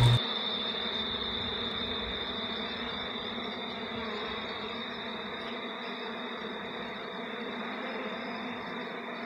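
Bees buzz in a continuous, steady drone close by, with a sustained high hum that never lets up.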